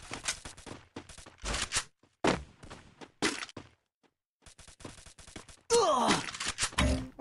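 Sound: gunfire in the video game Counter-Strike

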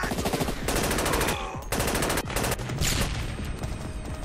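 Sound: machine gun firefight in the video game SAS: Secure Tomorrow

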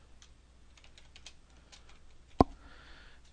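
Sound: typing a template name on a computer keyboard

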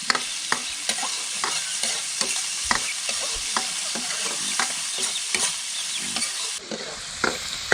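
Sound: frying pork pieces in oil until golden

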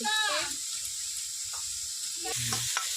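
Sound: pea shoot stalks frying in a pan

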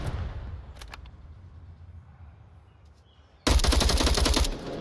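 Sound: gunfire in the VR shooter game Onward

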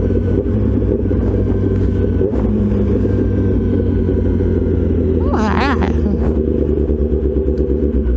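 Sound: Kawasaki ZX-10R motorcycle riding with loud aftermarket exhaust

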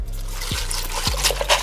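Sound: juice poured over ice

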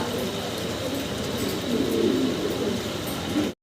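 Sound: fancy pigeons cooing in a loft

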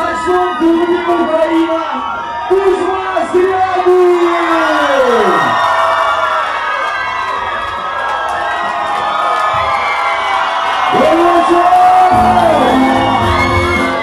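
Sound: girls screaming and boys shouting at a concert

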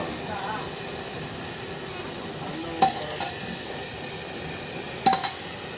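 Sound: frying chili, curry leaves and coriander for dal fry

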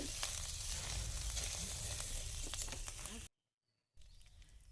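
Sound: ginger and cumin stirred in hot oil, sizzling

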